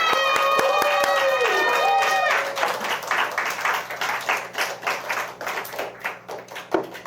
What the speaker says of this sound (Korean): 다시 한번 큰 환호성과 박수로